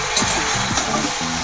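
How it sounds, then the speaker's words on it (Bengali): Cabbage and peas fry in a pan with a steady, close sizzle and brief bubbling bursts over a short stretch. "ওদিকে আমার সবজিটা ভাজা হচ্ছে"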